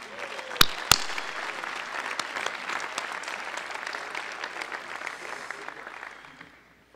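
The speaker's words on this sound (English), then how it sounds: "a lot of folks enjoy receiving a round of applause this evening" Banquet audience at a sports media awards dinner breaks into sustained applause, a dense, steady clapping that rises after two sharp knocks near the start, holds for several seconds and fades out at the end.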